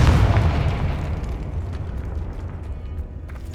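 A Confringo spell explosion in the video game Hogwarts Legacy bursts with a loud, deep boom that trails off into a long rumbling roar with faint crackles.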